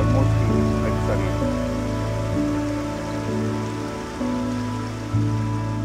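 Rain pours steadily down a large panoramic window in a house, a dense continuous wash of water with no break, mixed with a low droning hum underneath.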